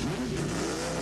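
Race cars rev at Pocono Raceway during a 1988 NASCAR Cup Series race, a loud, steady engine roar with rising and falling pitch and no voices.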